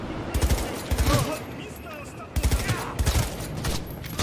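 Rifle gunfire rattles in Cyberpunk 2077 in two bursts of rapid shots, loud and close, separated by a quieter stretch of game noise with a voice talking underneath.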